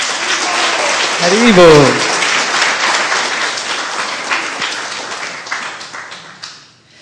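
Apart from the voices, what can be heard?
audience applause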